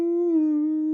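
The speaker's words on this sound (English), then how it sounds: "like a very stereotypical alien sound" A stereotypical alien UFO tone in a song, a steady, pure sustained hum with stacked harmonics and a slight wavering pitch, smooth and electronic-sounding for about a second.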